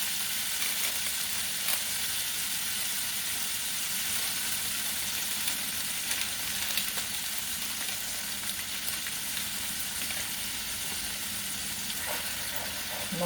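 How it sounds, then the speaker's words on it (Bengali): A spice paste with coriander powder fries in a pan, giving a loud, dense, unbroken sizzle that holds steady throughout with only faint scattered clicks. "মশলাটা এবার একটু কষিয়ে নেবো"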